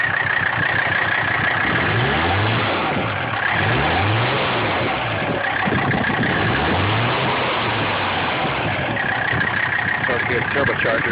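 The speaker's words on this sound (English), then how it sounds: "I don't care, it sounds good. It sounds like a Detroit diesel almost while going down the road." A 1984 Mercedes-Benz 300D turbo diesel running without a muffler gives a loud, raw, throbbing rumble that swells and dips in repeated revs, with a voice talking over it at times.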